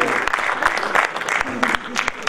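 Crowd applause at a live stage comedy drama performance, uneven bursts of clapping with a voice talking over it throughout.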